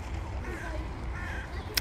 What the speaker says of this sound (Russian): Все хотят, и птички слетаются на лакомство.